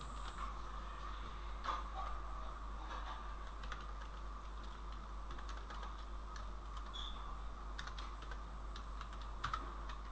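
Amounts being typed into an Excel spreadsheet on a computer keyboard make quiet, quick key clicks that carry on steadily throughout over a low hum.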